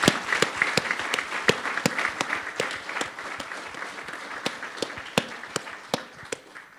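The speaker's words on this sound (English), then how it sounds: "give our wonderful Thai team and student ambassadors a large round of applause" An audience in a school auditorium applauds during a secondary school Wai Kru ceremony with a steady wash of many hands clapping. Sharp individual claps stand out, and the sound fades slightly toward the end.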